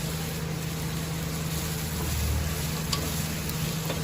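Onions and shallots fry in a pan for a duck biriyani, giving a steady, close sizzle with a constant hum underneath and a faint scrape of stirring.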